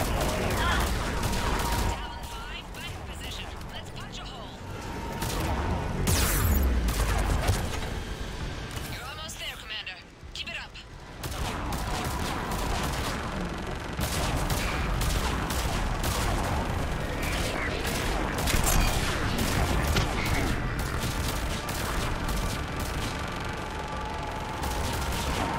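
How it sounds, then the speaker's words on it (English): Sci-fi gunfire in Mass Effect 3 combat, a near-continuous stream of rapid shots and bursts from enemies firing nonstop, loud throughout with a brief lull midway and voices talking over it. "these guys are just constantly shooting."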